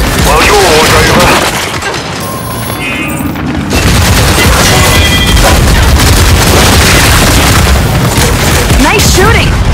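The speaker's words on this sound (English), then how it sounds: "Flashbang! Incoming!" A flashbang grenade goes off in the video game Gears 5: a loud, close blast followed by a muffled lull, then heavy booming and rapid gunfire, with in-game voices shouting over the combat.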